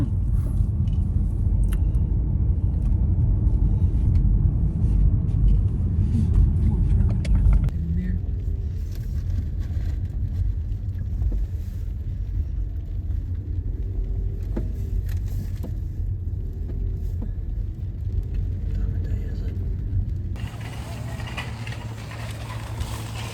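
A car drives along a road on the way to a town, its low engine rumble and tyre noise steady and close throughout, shifting in tone partway through with no talking.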